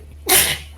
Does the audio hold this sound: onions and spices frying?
no